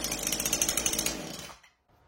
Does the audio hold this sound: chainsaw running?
yes